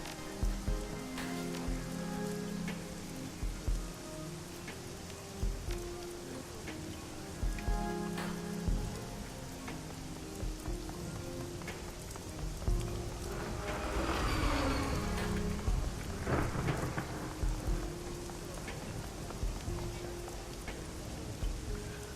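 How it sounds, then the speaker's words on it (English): Steady rain pours down in the video game Shadowrun: Hong Kong, a continuous hiss across the whole stretch with scattered drip and splash accents and a louder swell near the middle, no voices. "Raymond and Wu stand near each other in the rain"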